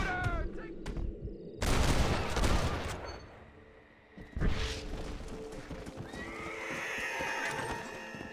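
A horse whinnies loudly and hooves clop in the video game Red Dead Redemption, with bursts of gunfire and other game noise around it.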